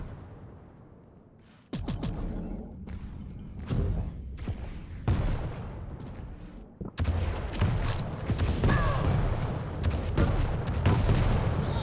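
Weapon fire in an arena shooter video game, railgun shots and rocket blasts, arriving as sharp cracks and booms that grow denser and louder after a quiet opening.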